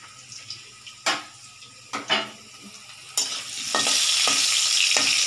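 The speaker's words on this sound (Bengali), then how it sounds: "আলুগুলো দেখো প্রায় ভাজা হয়ে গেছে।" Potatoes frying in a pan, seasoned with chili powder and salt for a home-style fish curry, make a steady sizzle, rising louder near the end, cut by several sharp spatula scrapes and stirring knocks.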